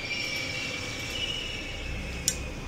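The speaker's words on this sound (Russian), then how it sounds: "Чё ж поезд так скрипишь?" Train wheels squealing in The Longest Journey video game: a steady high-pitched metallic screech holds under continuous rumbling rail noise, with a brief sharp clank near the end.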